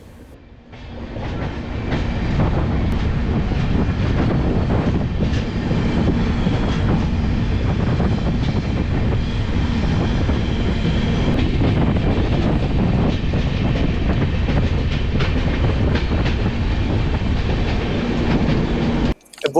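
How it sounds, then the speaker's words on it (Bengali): The Visakhapatnam to Araku Vistadome train runs through the winding curves of the Ananthagiri hills, with a steady, loud rumble and rattle of wheels and carriages and faint clickety-clack. The noise goes on without a break and no one speaks. "বিশাল বিশাল বাঁকে ট্রেন হারিয়ে যাচ্ছে অনন্তগিরি পাহাড়ের মধ্যে"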